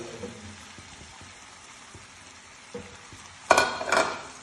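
Soaked basmati rice for tomato rice is roasted in a pan over a gas flame, with a faint low sizzle and light stirring, then two loud close scraping sweeps of a spoon across the pan.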